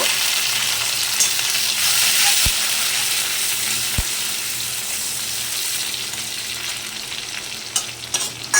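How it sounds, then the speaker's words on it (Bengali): Green chillies are stirred into fried onions in a pan, a loud steady sizzle with a couple of sharp utensil knocks and scraping toward the end, no voices. "একটুখানি একটু নাড়াচাড়া করে নেব"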